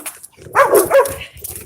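A high-strung dog named Abby on a leash during a morning walk lets out a short burst of close, whining barks and yips, with quieter rustling around it.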